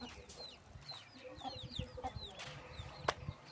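Chickens being fed grain give soft, scattered clucks and short chirping calls, fairly faint and close, with a brief sharper squawk near the end and no clear talk.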